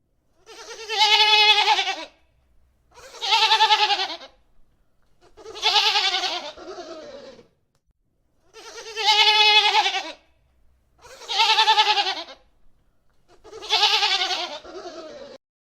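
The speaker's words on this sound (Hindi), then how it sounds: "बकरी में बदल गए। दो छोटे सींग, चार पैर और मैं की आवाज।" Six bleats from a goat, each a wavering, nasal cry lasting about a second, spaced by short pauses, close and clear with no talk.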